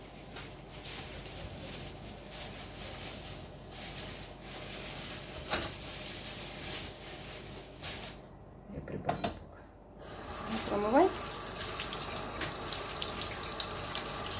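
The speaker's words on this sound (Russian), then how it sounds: "доставай из пакета и промой под водой." A raw chicken breast is rinsed under a running kitchen tap, the water hissing and splashing steadily into the sink with rubbing and handling sounds, a brief pause in the flow midway, then steady running again.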